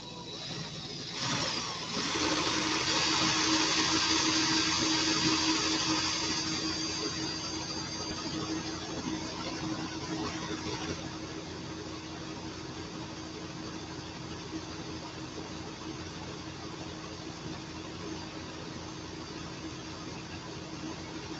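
A drill spins to wind wire into coils for a coil build, its motor whirring up to speed in the first seconds, then running at a steady, slightly lower drone for the rest, close and without talk.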